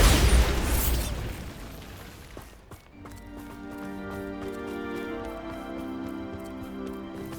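The Bombarda explosive spell in Hogwarts Legacy goes off as a loud explosive burst that rumbles away over a couple of seconds, then gives way to a sustained ringing, tonal magical hum.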